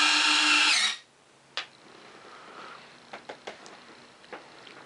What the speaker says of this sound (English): So I'm going to go ahead and retract these landing gear.